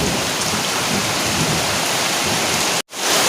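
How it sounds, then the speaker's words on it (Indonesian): Sudden heavy rain falling outdoors at a fruit orchard hut, a loud, dense steady wash of drops close by that cuts out abruptly near the end, then resumes. "Ini cuacanya lagi hujan teman-teman, mendadak hujan."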